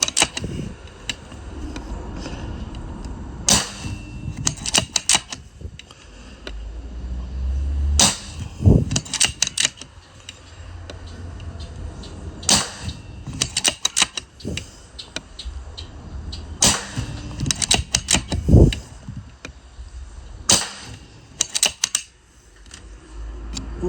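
Rifle cartridges being pressed one by one into a magazine for an M25 7.62 rifle, a series of sharp metallic clicks at irregular intervals over steady faint background noise, close and moderately loud.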